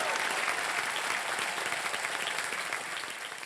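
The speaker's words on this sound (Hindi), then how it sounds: "जोरदार तालियां।" Loud applause from a studio audience on a televised game show, dense sustained clapping that stays strong and then tapers slightly toward the close.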